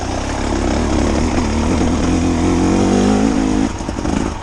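A 2024 KTM 300 XCW two-stroke dirt bike engine pulls hard under steady throttle, loud and close, its buzzing note rising before easing off near the end.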